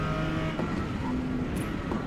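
A Porsche sports car fitted with a racing exhaust in Forza Motorsport drones along at steady speed, a continuous engine hum with a faint tonal whine and light tire noise, moderately loud with no one speaking.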